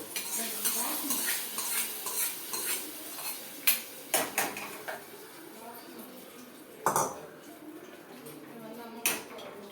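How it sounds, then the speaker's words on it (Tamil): Tempering is poured into simmering ridge gourd kootu, with a soft sizzle under clinks and scrapes of a metal spoon against the pot, a few sharper knocks standing out, close by and without clear talk. "நம்ம இந்த தாளித்து வச்சதை இதில் கொட்டணும்"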